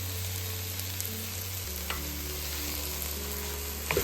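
Sweet potato simmers in a poached garlic soup with leeks and spinach, a continuous gentle bubbling sizzle over a steady low kitchen hum, with a couple of faint clinks and no talking.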